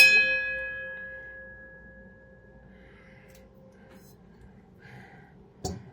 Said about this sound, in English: Oh, look what we have here. We have my lovely bell.